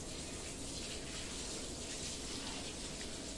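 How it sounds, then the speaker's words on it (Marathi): Water being pushed forward across a terrace floor during washing makes a steady, close rushing wash that continues unbroken and evenly loud, with no voices. "अशा प्रकारे पाणी हे पुढे पुढे ढकलत"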